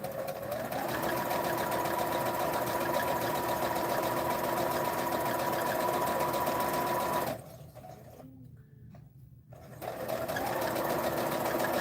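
A sewing machine runs continuously, a close steady whirring hum as it stitches an arrowhead quilt block, stopping briefly for about two seconds before starting up again.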